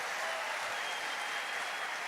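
A church congregation claps in steady, dense applause, sustained and even across the whole moment, heard from within the hall with no voices over it.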